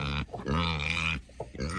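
A pig grunts repeatedly in short, throaty bursts, close and loud, freshly awake and hungry at feeding time in a snowy farmyard.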